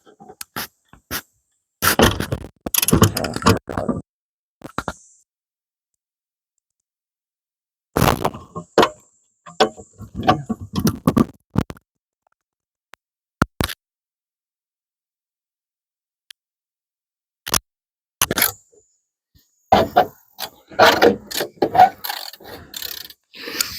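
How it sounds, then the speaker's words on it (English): Lower fender brackets being removed from a 1975 Plymouth Duster, heard as bursts of metallic clicking, ratcheting and scraping separated by long silences, close and fairly loud, with no talk. "What I'm doing is I'm taking off those lower brackets that go from the fender"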